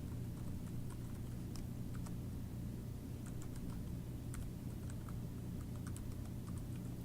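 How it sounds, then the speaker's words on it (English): An email address typed on a computer keyboard, with faint, quick key clicks in uneven bursts over a low, steady background hum. "you can just go ahead and type it right away"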